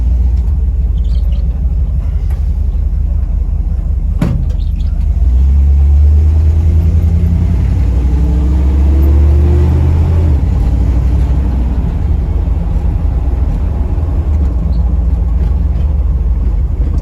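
A Dodge A108 van drives through a residential neighborhood, its engine a steady low rumble that swells as it pulls away around the middle, with one sharp knock partway through and no one talking.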